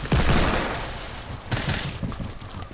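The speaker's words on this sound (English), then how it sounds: "Your grenade launcher is the reason why we're dead." Grenade launcher fire in a multiplayer shooter: a loud blast at the start, then a second sharp burst about a second and a half later, each trailing into rumbling noise.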